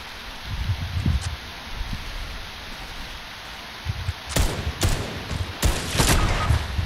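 Gunfire in the video game Fortnite, played on PS5: a murky, rustling background gives way in the second half to several sharp, loud shots in quick, uneven bursts.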